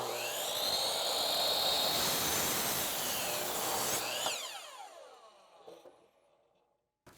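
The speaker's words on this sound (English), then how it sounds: "I'm going to chop those off with the chop saw" A chop saw cuts the corners off a piece of white oak in a workshop, a loud continuous high whine for about four seconds, then the blade spins down, with a faint clunk near the end.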